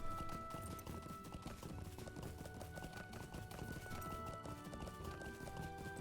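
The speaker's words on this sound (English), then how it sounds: "I have a fast horse, though, so we should be good." Horse hooves gallop in the Lord of the Rings Online video game, a steady fast clip-clop rhythm that is continuous and moderately close throughout, with faint game ambience beneath.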